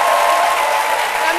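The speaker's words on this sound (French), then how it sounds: "Miss Affairage, Alissar Zena, que je vous demande d'applaudir." Studio audience applauding steadily throughout at a lively Ivorian midday TV variety show, dense sustained clapping with a faint voice underneath.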